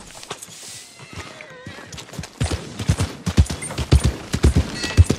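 Hooves of a raven black Shire horse clip-clopping in Red Dead Redemption, loud uneven thuds that build into a steady walking rhythm, with a soft whinny-like sound early on.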